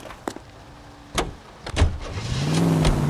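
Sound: car driving off in LA Noire video game

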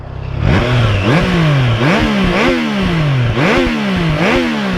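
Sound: motorcycle engine revving

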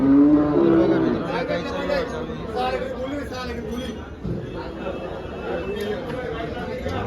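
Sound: cows mooing at cattle market

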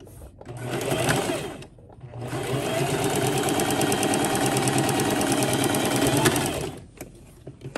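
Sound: sewing machine sewing a dog bow tie

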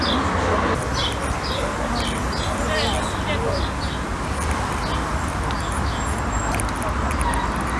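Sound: artificial bird sounds played

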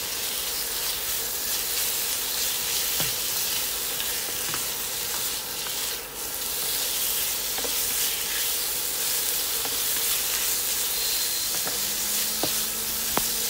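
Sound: pork stir-frying in hot pan

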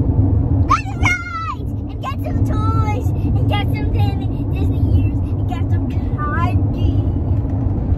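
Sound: car driving, taking a highway exit

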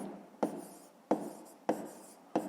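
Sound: writing with a pen on paper

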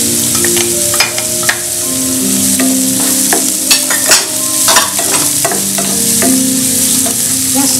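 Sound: chilies sizzling as they are added to the pan

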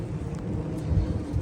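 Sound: rain beside the River Thames in London

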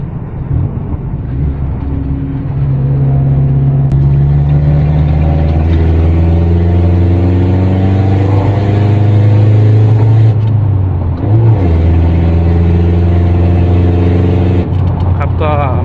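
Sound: remapped 1.9 2020 pickup engine revving, double-clutch throttle blips

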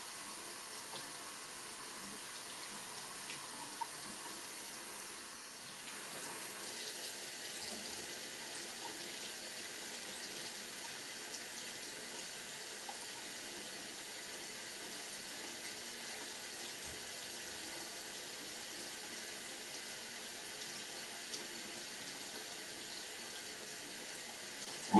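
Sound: tap water running from faucet

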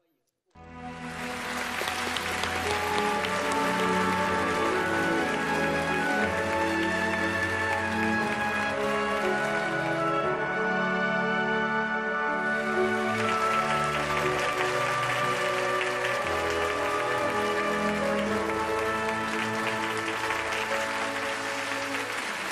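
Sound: studio audience applause welcoming a guest

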